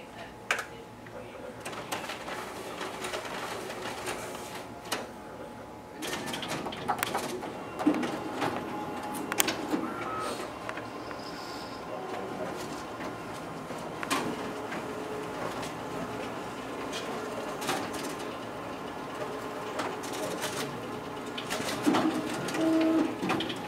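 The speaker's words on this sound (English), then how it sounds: "we'll go ahead and test out the document feeder as well as the stapling feature on our finisher" A Xerox WorkCentre 7835 copier feeding two test copies through its document feeder and double stapling them in the finisher, giving mechanical whirring with repeated sharp clicks and clacks, close by.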